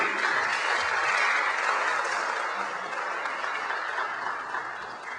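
An audience applauds a guest speaker being welcomed at an evening community talk, the clapping a steady, dense wash that runs the whole time and fades slightly toward the end.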